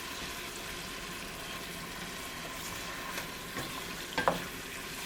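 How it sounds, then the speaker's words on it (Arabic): Chicken thighs being stirred with spices in a pot for Indian chicken biryani, giving a steady soft sizzle and scraping with a few sharper clinks near the end, no voices. "غادي نحركوهم هكا باش يتشربوا العطريه مزيان"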